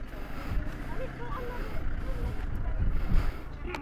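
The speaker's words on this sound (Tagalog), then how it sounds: "Lakas ng hangin." Strong wind blows across a submerged bypass road between Candaba and San Miguel, a steady, close rumbling buffet against the microphone with people talking underneath.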